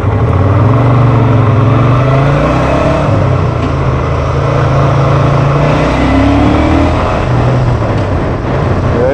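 A 2019 Moto Guzzi 1400 Audace Carbon motorcycle on a test ride, its big engine droning loud and close with rising revs under accelerating throttle, mixed with heavy wind rush, no talk.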